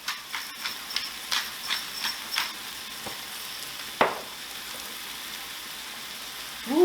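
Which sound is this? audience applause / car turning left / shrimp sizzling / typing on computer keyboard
shrimp sizzling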